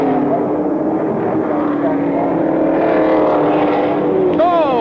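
A race car at the 1986 Bathurst 1000 pulls away from a pit stop, its loud, close engine roaring continuously beneath a commentator's voice.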